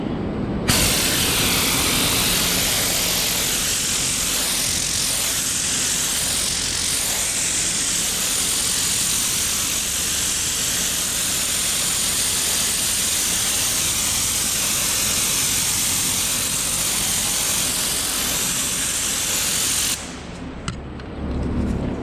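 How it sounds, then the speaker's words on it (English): A pressure washer with a tight cone nozzle blasting manure off the concrete floor of a heifer barn, a loud continuous broadband hiss and roar held steady for about twenty seconds before a short dip at the end. "So this is a special nozzle for the pressure washer."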